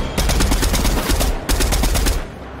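Loud automatic gunfire in Fortnite, two rapid bursts of close shots separated by a brief pause, each a fast rattling string of cracks with no talk over them.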